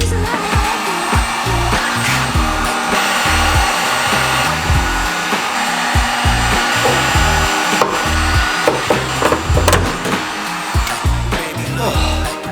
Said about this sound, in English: Just used a heat gun to help heat up these little bits of adhesive